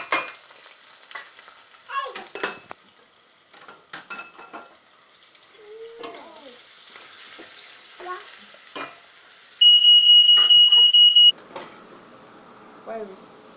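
Ground pepper hits very hot oil in a pot for a Ghanaian egg and corned beef stew, sputtering and sizzling close by in bursts amid scraping stirs and clinks of a utensil, with a brief steady electronic tone partway through.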